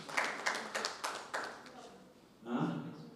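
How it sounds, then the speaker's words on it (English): A small audience at an exchange-program gathering claps in a few distinct, evenly spaced bursts of handclaps, then fades out as a voice begins speaking. "Can you clap for again?"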